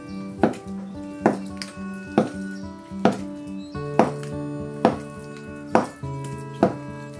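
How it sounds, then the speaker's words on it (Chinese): A knife cuts a block of firm tofu into thick pieces on a cutting board, eight evenly spaced knocks close by, each a sharp tap that rings briefly, over a faint background tone. "把它斜刀切开，然后把老豆腐我们给它切成块，切的块稍微厚一点"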